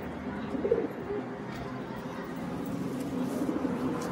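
Madrasi high-flying pigeons in a loft give low, soft cooing calls that carry on steadily under a dull background murmur, with a slightly louder coo standing out near the start.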